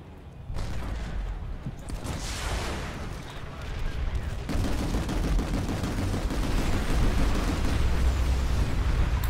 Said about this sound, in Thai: มันยิงอะไรมาเยอะแยะนักหนาวะเนี่ย